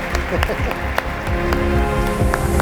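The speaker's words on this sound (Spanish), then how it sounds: "vamos a darle un fuerte aplauso a Darío y al robot." Audience applause after a talk on robotics and artificial intelligence with a robot demonstration, steady clapping running under a loud, busy room with voices over it.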